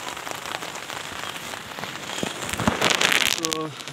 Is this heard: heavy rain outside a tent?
yes